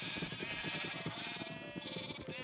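Sheep bleating in Minecraft: quavering, rhythmically pulsing bleats, steady and fairly close, running continuously for a couple of seconds without speech.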